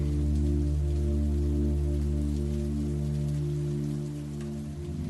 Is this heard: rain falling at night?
yes